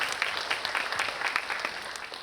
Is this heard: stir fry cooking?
no